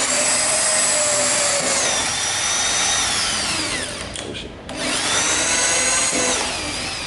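A power drill bores holes into a wooden work surface, its loud whining motor running steadily and dipping briefly in pitch mid-way before spinning back up.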